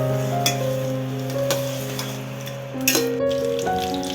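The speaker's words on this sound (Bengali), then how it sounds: "এই তো মশলাগুলো কষিয়ে এখন আমি এই তো চিকেনগুলো দিয়ে দিচ্ছি।" Chicken pieces are added to spices already cooked down in a pan for a dry-style curry. A steady close sizzle carries on throughout, broken by a few sharp stirring clinks, with a sustained tonal hum in the background.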